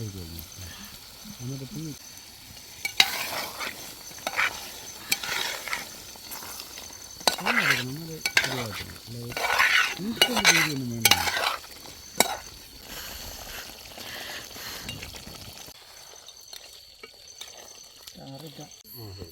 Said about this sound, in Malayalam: ഇനി നമുക്ക് തേങ്ങാപ്പാൽ ഒഴിച്ചു കൊടുക്കാം.